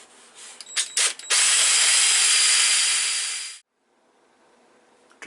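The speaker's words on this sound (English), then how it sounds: "we drill right down until we hit the brass tube." A few short bursts of a power drill, then a sustained high whine for about two seconds drilling down through a wooden pen blank to a brass tube, stopping abruptly, leaving near silence.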